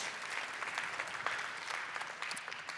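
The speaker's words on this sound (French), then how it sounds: "on peut vous applaudir, bravo" Audience at a tech award ceremony applauding, a steady, even wash of clapping from a sizeable crowd heard alone and at moderate distance for the whole stretch.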